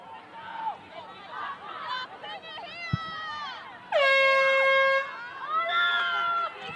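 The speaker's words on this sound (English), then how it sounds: "So the siren sounds." A loud, sustained match siren blares for about a second at a youth rugby game, a clear harmonic horn blast over crowd chatter, with shorter tonal horn sounds and a few whistle-like calls around it.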